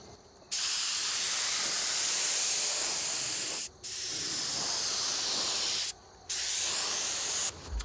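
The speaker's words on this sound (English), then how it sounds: "I'm just checking it here. And it looks good, so I'll start spraying." A spray gun sprays wood finish on a custom bathroom mirror, hissing loudly in long continuous bursts, three sustained blasts separated by brief pauses, close by.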